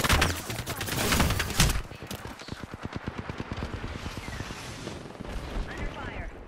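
Gunfire in an online multiplayer shooter game: a dense, loud roar of shots gives way to rapid automatic bursts, with team voice chat heard alongside.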